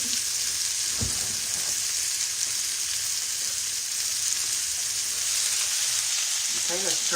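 Food fries in hot grease in a home kitchen, a steady close sizzle with a few scattered pops and crackles throughout.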